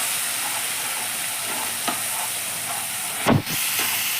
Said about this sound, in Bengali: এবার আমাকে এই মশলাটাকে যতক্ষণ তেল না ছেড়ে আসছে ততক্ষণ সুন্দরভাবে কষে নিতে হবে।